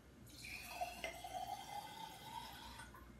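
Water poured steadily into a 200 ml cup for a homemade fragrance mix, a continuous close trickle and splash lasting a few seconds with no talking.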